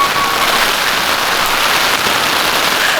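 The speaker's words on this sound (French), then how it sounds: "Oh non, c'est vraiment le déluge là." Dense, loud, continuous hiss of heavy rain pouring down in Japan, an unbroken downpour drumming on surfaces with no voices.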